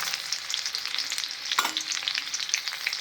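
Red chillies, urad dal and chana dal roast in a hot pan for tomato chutney, making a continuous close sizzle with light stirring scrapes and one brief louder clatter midway.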